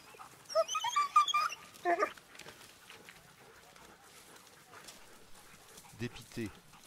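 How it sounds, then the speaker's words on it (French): A pack of hunting dogs barks and yelps while chasing a wild boar during a driven hunt near Portel, Portugal. A dense cluster of barks comes in the first two seconds, then quieter yelps follow, with fainter voices in the background. "je l'entends filer, avec toute la meute de chiens aux trousses."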